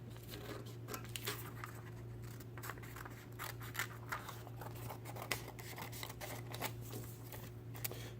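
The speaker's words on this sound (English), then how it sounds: "cut out along the dotted line" Scissors snipping through paper while cutting out a paper helicopter template along a dotted line, with quiet, close, irregular crisp snips and faint rustling of the sheet, no talking.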